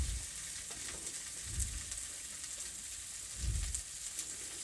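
Sliced onions fry in a pan with ground spice paste, giving a steady bright sizzle with two dull stirring scrapes, heard close and without talk.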